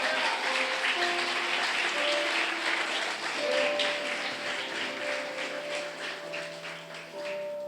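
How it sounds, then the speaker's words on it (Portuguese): Church congregation applauding steadily for several seconds, a dense wash of clapping over sustained musical tones, easing slightly toward the end. "Você pode aplaudir ao Senhor nessa noite?"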